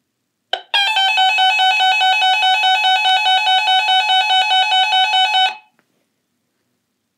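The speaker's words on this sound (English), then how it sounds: "Let's go ahead and hold the test button and see what it sounds like." A weather radio's test alarm sounds as a loud, harmonic electronic tone that rapidly pulses without pause for about five seconds, then cuts off abruptly into silence.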